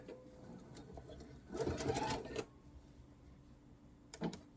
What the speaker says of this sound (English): you're going to sew back and forth a couple of times over that